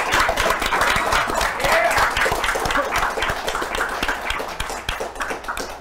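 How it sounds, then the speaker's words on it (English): A convention audience at a comics publisher's summit breaks into loud, sustained applause, dense clapping that stays strong and then gradually thins toward the end. "Let's have a big round of applause for Mr. Eric Heisserer"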